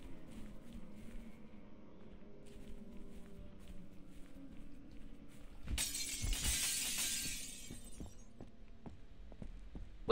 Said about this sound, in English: Punch glass.